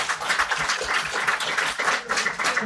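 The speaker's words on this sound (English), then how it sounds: "give a round of applause." A live audience at a Culture Night special gives a steady round of applause, dense continuous clapping heard at a moderate distance with no talk over it.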